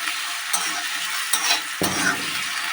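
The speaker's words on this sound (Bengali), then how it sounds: "আলুটা দিয়ে আমরা একটু কষবো।" Potatoes are stirred in hot oil after tempering spices, a steady close sizzle broken by a few scraping stirs of a spatula in the pan.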